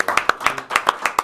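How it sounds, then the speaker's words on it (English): Hands clapping at a song swap gathering in Longmont, a quick close run of about ten crisp claps in an uneven rhythm lasting just over a second. "Give a big round of applause."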